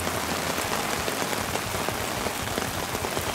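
Heavy downpour during carp fishing, a steady dense hiss of rain drumming on surfaces, loud and continuous throughout with no voices.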